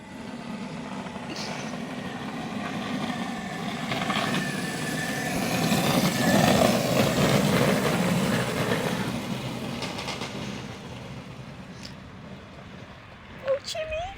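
A homemade electric skateboard built from AliExpress parts rolls along a road, a steady rumbling wheel-and-motor drone that swells and fades as it passes, with a few clacks near the end.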